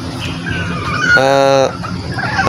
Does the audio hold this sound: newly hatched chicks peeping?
yes